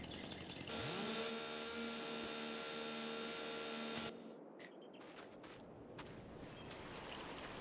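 Chainsaw engine cutting trees in Farming Simulator 22, revving loud and steady for about four seconds with a rising pitch on startup, then cutting off and leaving quieter game ambience.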